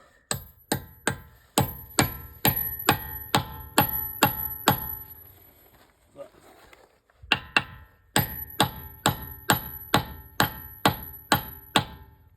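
A hammer strikes a 19 mm wrench onto a car wheel lock nut in two runs of sharp, evenly spaced metallic blows, about ten each, separated by a short pause.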